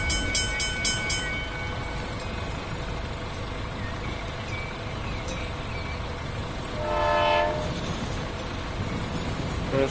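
A train rolls past a stop in a steady, close rumble of rail noise, and a brief tonal horn blast rises over it near the end.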